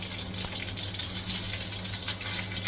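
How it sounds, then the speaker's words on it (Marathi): Mustard seeds and cumin crackling in hot oil for a tempering, a dense scatter of sharp pops over a faint steady hiss, close and without voices. "मोहरी तडतडली, जिरं टाकलंय."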